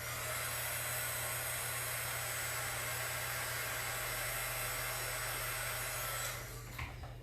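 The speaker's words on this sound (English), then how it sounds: "Next time I heat emboss" Heat embossing tool blowing hot air while making a card, a steady, loud, close hiss-like roar holding constant for several seconds, then briefly faltering near the end.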